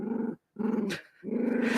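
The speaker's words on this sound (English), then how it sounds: "Are we minding the low puppy growl here?" A puppy growling low and close in three rumbling bursts separated by brief pauses, with no talk over it.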